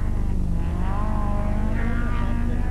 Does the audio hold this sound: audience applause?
no